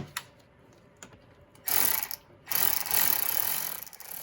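A ratchet with a 10mm socket clicks while tightening an air intake hose clamp on a Honda Pilot, a few faint ticks followed by two longer bursts of rapid, close ratcheting.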